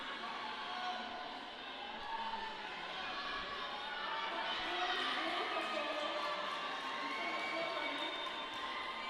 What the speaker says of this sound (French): Et vous entendez les vivas de la foule, ça veut dire que Cash Pistache est passée